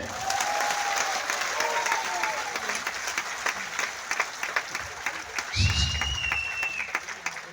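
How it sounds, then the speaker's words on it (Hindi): Audience applause at a motivational talk, a loud, continuous crowd of clapping hands with a few whistles cutting through and faint voices underneath. "तालियां तो बजनी चाहिए।"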